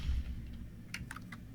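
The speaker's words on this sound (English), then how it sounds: "I'm sorry, I'm typing in the rivalry trophy" A few quick keystrokes on a computer keyboard in a youth football broadcast booth, light clicks clustered near the end over a low background hum.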